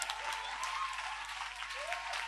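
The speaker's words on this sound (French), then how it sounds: "Il faut acclamer pour moi." A church congregation applauding during a French-language sermon, a steady wash of clapping throughout with a voice faintly mixed in.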